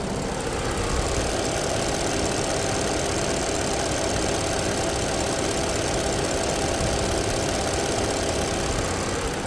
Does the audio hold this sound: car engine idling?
yes